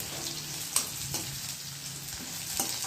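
Onions sizzle steadily in hot oil for pulao rice, a soft continuous frying hiss with a few brief sharper clicks and pops, close and without any voices.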